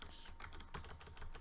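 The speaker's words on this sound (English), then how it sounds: "I'm sorry if you can hear my keyboard, it's really mechanical." Fast, close clicking keystrokes from a mechanical computer keyboard, a dense irregular rattle of sharp taps with no speech.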